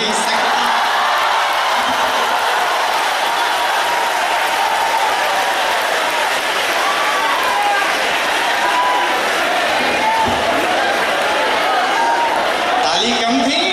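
Audience applause at a kavi sammelan poetry recital, a sustained wash of clapping from a crowd that continues steadily throughout, with a voice speaking over it.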